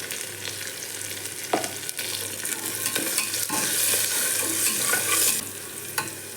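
Ridge gourd with salt and turmeric sautés in hot oil, giving a close, steady sizzle. A utensil stirs and scrapes through the pan in occasional sharp clacks.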